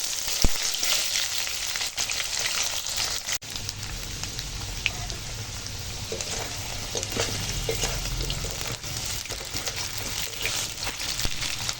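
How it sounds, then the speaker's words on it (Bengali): Cubed potatoes fry in hot oil with whole garam masala and bay leaf, giving a steady, close sizzle that crackles throughout with faint stirring scrapes and no talking. "আর এখন ওই তেলেই দিয়ে দেবো এই যে গোটা গরম মশলা আর তেজপাতা দিয়ে দেবো কেটে রাখা আলু আলুটা একটু ভেজে নেবো"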